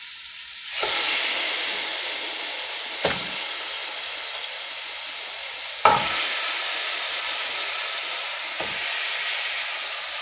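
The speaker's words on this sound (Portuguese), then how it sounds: "enquanto essa cebola doura, que eu não vou deixar dourar, eu vou trazer o frango já para eu ir colocando" Onion and chicken sizzle in a pan on the stove, a loud steady frying hiss that flares briefly each time more chicken pieces drop in, with no talking.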